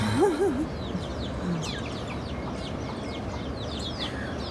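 A rooster crows nearby at the start on Rodrigues island, followed by steady clucking from a hen with four chicks and scattered bird chirps over outdoor background noise.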